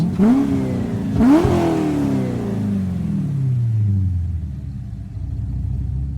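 A Corvette Z06 C5 engine in Gran Turismo revs twice in loud rising bursts, then winds down into a long, deep, rumbling idle that fades gradually, heard close with no talk.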